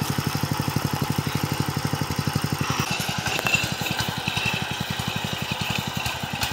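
A new tractor's engine chugs in a fast, even idle pulse, loud and close, with a change in load and clatter midway as it is put into first gear; no talking.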